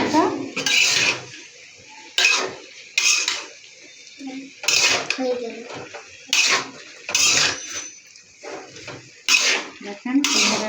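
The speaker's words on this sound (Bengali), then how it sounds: "দেখুন এখন আমি ঢেকে দিচ্ছি ঢাকন দিয়ে" A pot lid is set onto a cooking pot on a home kitchen stove, giving repeated metallic clanks and scrapes of cookware and utensils at close range, spaced between stretches of quiet kitchen noise.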